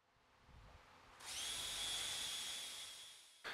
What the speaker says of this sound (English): those two dimples mark the locations where I need to drill to put a couple of screws through